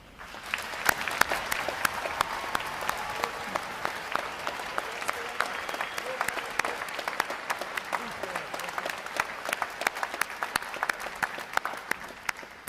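A large audience at a Navy boot camp graduation gives veterans a long, steady round of applause, dense sharp claps filling the whole stretch at an even level.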